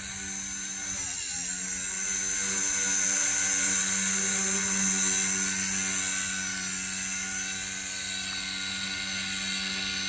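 A small XK K120 brushless RC model helicopter whines steadily nearby, its high-pitched motor and buzzing rotor holding a constant tone, swelling slightly louder mid-way before easing back.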